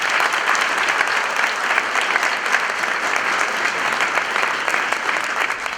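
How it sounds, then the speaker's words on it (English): An audience applauds at a business culture event, with dense, steady clapping that fills the whole stretch at an even loudness. "Please, a round of applause for"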